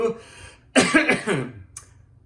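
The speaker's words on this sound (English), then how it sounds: "I coughed into my hand" A single harsh cough bursts out close by after a quiet moment, trailing off, followed by a faint short tick.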